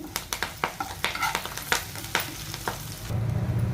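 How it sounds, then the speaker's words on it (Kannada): Green chillies and curry leaves fry in hot oil for an amla chutney, crackling with quick sharp pops close by, then settling into a softer sizzle. "ಒಂದೆರಡು ಹಸಿ ಮೆಣಸಿನ್ಕಾಯಿನೂ ಹಾಕ್ಕೊತಾ ಇದ್ದೀನಿ ಮುರಿದ್ಬಿಟ್ಟು"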